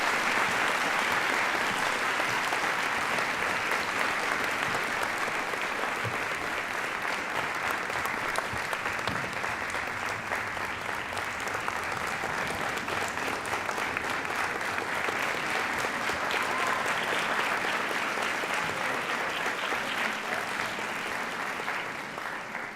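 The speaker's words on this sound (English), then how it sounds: "Please join me in giving Lieutenant O'Leary one more round of applause" Audience at a Veterans Day celebration in a high school gathering applauds: dense, steady clapping from a large crowd, sustained for over twenty seconds without talk.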